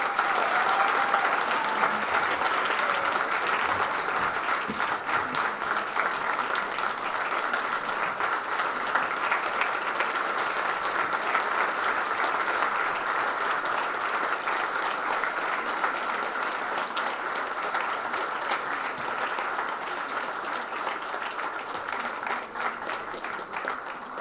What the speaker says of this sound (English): please join me in giving a big round of applause for Sharon Lombardo